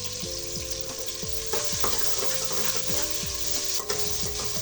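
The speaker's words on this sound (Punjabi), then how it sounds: "ਪਿਆਜ਼ ਇਹਨੂੰ ਹੁਣ ਤੜਕਾਣੇ ਆ ਥੋੜਾ ਜਿਹਾ ਤੜਕ ਜਾਏ ਆਇਲ ਦੇ ਵਿੱਚ" Chopped onions frying in hot oil in a home kitchen, a steady close sizzle broken by repeated scraping stirs, with no talking.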